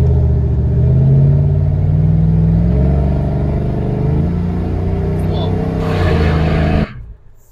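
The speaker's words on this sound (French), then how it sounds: "Elle a trop du mal à passer la vitesse." A GMC Sierra 1500 pickup with a sluggish automatic gearbox drives along, its engine droning loud and steady with rising and falling pitch as it strains between gears, under continuous talk from people inside the cab.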